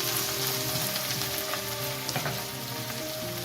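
Onions and celery cook in a pan with a close, continuous crackling sizzle that stays fairly even throughout, with no voices.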